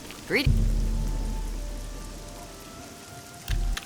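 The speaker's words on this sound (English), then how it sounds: "Please let the rain stop." Steady rain falls and patters throughout in The Elder Scrolls 4: Oblivion, with low rumbling bursts near the start and the end.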